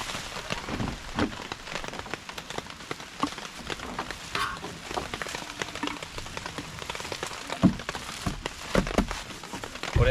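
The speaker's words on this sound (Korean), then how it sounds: "이제 비가 제법 내리기 시작했습니다" Steady heavy rain drums on a camping tarp at a Galaxy Wing tarp and MSR Elixir 2 tent campsite during a heavy-rain warning, a dense continuous patter with occasional louder drops close by.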